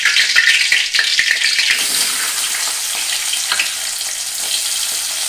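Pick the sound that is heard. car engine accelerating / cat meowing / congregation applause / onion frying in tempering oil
onion frying in tempering oil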